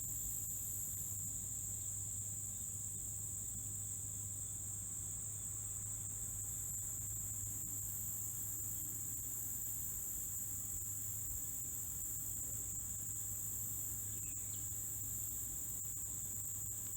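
Insects chirp outdoors in a steady, shrill, continuous chorus, with a low background hum underneath and no talking.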